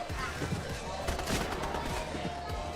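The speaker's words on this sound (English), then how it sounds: "Bullets are flying." Rapid bursts of gunfire crackle through a battle royale esports match, distant and mid-level, mixed with game effects and a caster's voice talking over the action.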